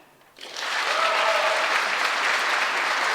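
After a short quiet moment, applause swells fast and stays loud and even from a large crowd at a senior awards ceremony for a high school class, a dense sustained clapping with no voices on top.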